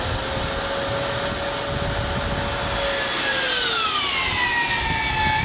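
A twist-off structural bolt with a DTI under its head is tensioned through steel with a power wrench, giving a loud, steady mechanical whine whose pitch sweeps downward near the end, close and continuous without talk.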